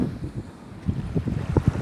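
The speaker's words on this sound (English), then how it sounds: "that's the sound of the surf breaking along the reef." Surf breaking along a reef off a Fijian village, heard as a low rumbling wash with wind buffeting the microphone and irregular surges of distant waves.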